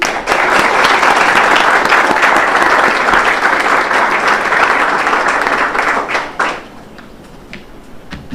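Lecture audience applauding lecturer Rylie Osthus, a dense, loud wash of clapping that holds for about six seconds, then thins to scattered claps and fades.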